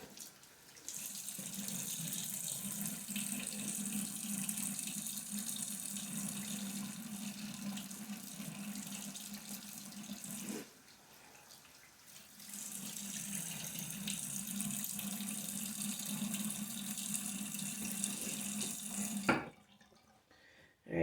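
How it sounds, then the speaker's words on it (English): A bathroom faucet runs steadily for a cold face rinse, a loud continuous close gush that stops briefly midway, resumes for several seconds, then cuts off near the end. "We're going to do a quick cold rinse."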